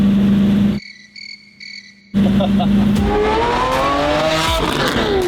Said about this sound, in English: Just follow the sound of my car.